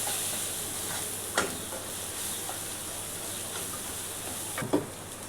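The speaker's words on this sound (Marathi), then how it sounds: "थोडासा गरम मसाला आणि थोडेसे जिरे पावडर. चांगलं परतून घेऊया." Steady frying sizzle of garam masala and cumin powder being sautéed in a pan for ragda pattice, a continuous hiss with a few scraping stirs of a spoon standing out.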